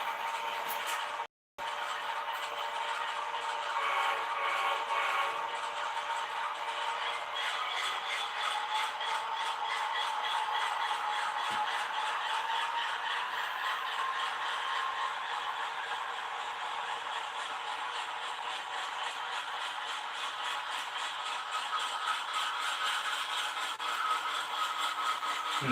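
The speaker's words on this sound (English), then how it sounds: "Engine sounds seem to be delayed on the 8774 too." Model train locomotive 8774 gives off a steady mechanical whirring with faint rattling and gear-like ticks, continuous and moderately quiet for nearly the whole stretch, with one brief dropout near the start and no voices.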